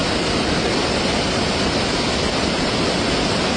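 Loud, steady roar of rushing flash-flood water in Kerala filling the whole clip, dense and unbroken like a swollen, rising torrent close by.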